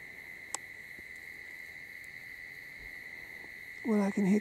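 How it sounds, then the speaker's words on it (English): Crickets chirp in steady, continuous high trills on a quiet night, with a faint distant hoot-like call rising near the end. "I can hear crickets and the odd cicada."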